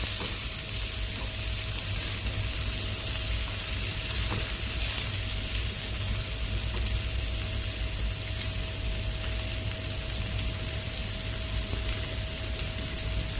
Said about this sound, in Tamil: அந்த வெங்காயமும் இந்த எண்ணெய் கூட சேர்த்து நல்லா வதக்குங்க.